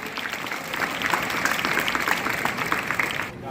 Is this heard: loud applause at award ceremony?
yes